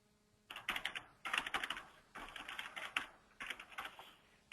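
Fingers typing on a computer keyboard in four quick bursts of rapid, close clicking, separated by brief pauses, with no voices.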